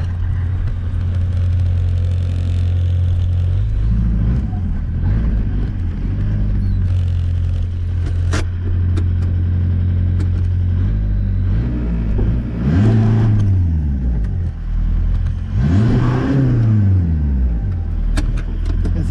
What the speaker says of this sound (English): Will this thing do burn out now?